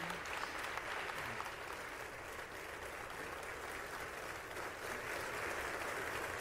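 A large House chamber crowd keeps up a long standing ovation, dense continuous clapping holding at an even level throughout without pause or talk.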